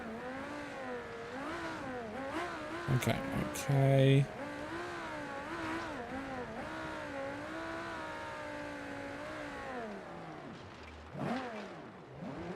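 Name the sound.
sports car driving in the video game BeamNG.Drive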